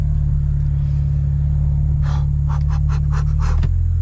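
A BMW N54 engine drones steadily and loudly from inside the moving car, and a quick run of short hissing bursts comes near the end.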